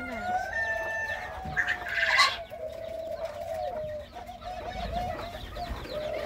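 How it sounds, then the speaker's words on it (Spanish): A hen clucking softly nearby while chicks cheep in high, thin peeps, with a few louder squawks and faint background noise. "La gallina con sus pollitos."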